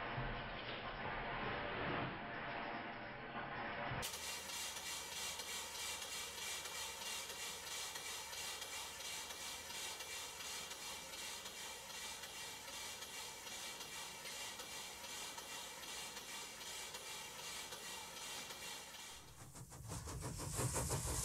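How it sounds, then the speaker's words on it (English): A model steam engine runs steadily, powered by a Castle steam boiler in a small steam plant, with a continuous hissing, rhythmic mechanical chug that stays fairly even throughout and grows briefly louder and rougher near the end. "I'm going to leave the engine running till the end of the video."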